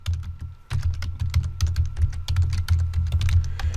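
A password is typed on a computer keyboard in a rapid, steady run of close, crisp key clicks after a brief pause, with no talking.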